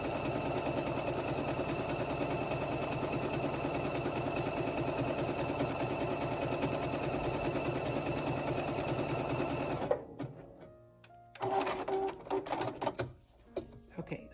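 Sewing machine stitching down rope cord to start an oval rope bowl, running as a loud, steady, fast mechanical whir for about ten seconds before stopping, followed by brief handling noises and a voice.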